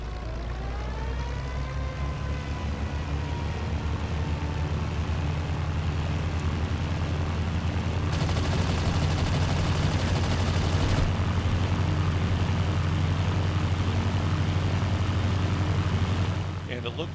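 A German heavy bomber in Battlefield 1942 drones steadily with loud propeller engine noise, while a dense rattle of gunfire runs through the middle section. The noise is continuous and close throughout.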